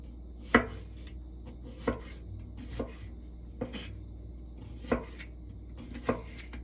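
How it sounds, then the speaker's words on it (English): Knife chopping a vegetable such as celery on a cutting board, six crisp separate thunks at uneven intervals, close and fairly quiet against a low background hum. "Let's cut up the other side real quick."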